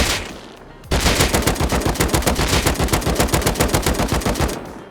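Automatic gunfire in the survival game Rust: after a quiet moment, a loud, steady rapid burst of evenly spaced shots runs for about four seconds, then tapers off.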